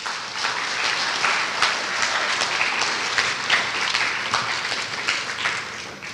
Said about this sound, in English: Big round of applause for Nitya and Divya.